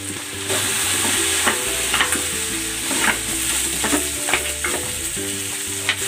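Pork hitting a hot pan with onions, for pork ribs: a loud, steady sizzle and frying hiss runs throughout, with stirring scrapes and clatter breaking through close up, and no talking.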